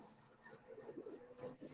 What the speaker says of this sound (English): Hold on, I'm hearing crickets.